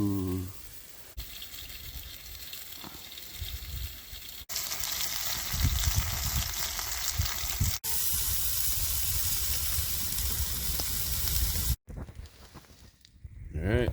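Sausages sizzle in a pan at a stormy solo tarp campsite, a steady broadband frying hiss that swells louder midway and runs nearly continuously, broken by a few abrupt cuts, ending in quieter outdoor rustle.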